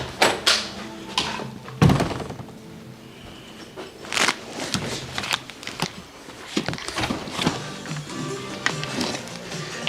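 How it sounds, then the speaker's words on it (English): Doors are forced open during a sheriff's warrant raid, with repeated heavy thuds, bangs and rattles spread irregularly over about ten seconds, loud and close, and brief voices in between. "Going through fucking doors."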